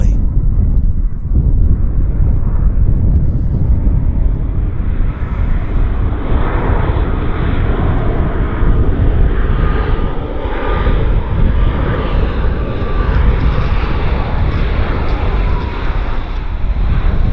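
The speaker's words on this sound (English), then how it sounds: "So that Dreamliner is Flight 107, and it's on approach." Boeing Dreamliner airliner, Flight 107, on approach to Vancouver Airport (YVR), a loud, continuous broadband jet roar that holds steady throughout, with wind rumble and no voices.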